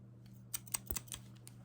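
Scissors snip close up during a quiet ASMR-style haircut, giving several crisp metallic clicks in quick succession against a low steady hum.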